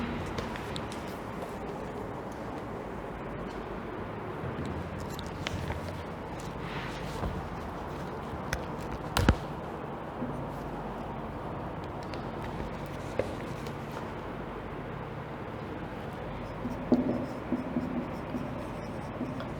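A teacher writes the main points on a classroom board, producing soft continuous scratching strokes with a few sharper taps against faint room noise.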